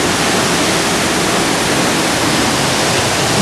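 Waterfall at Yabakei, heard from the bottom of the falls: a loud, steady, roaring wash of falling water that fills the whole scene without a break.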